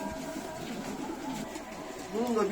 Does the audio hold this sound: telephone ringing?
no